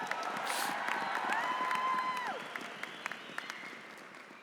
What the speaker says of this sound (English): Let's give him another round of applause for that great message.